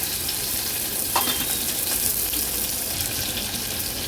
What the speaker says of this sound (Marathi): कांदा तेलावर छान परतून घेऊया